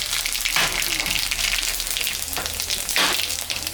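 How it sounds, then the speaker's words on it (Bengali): Dried red chillies, cumin and nigella seeds hit hot oil left from frying boal fish, producing a loud, constant crackling sizzle with a few brief surges as the pan is stirred. "আমি এখন মাছ ভাজা তেলের উপরে শুকনো লঙ্কা সাদা জিরা কালো জিরা সম্বরা দিয়ে দিলাম"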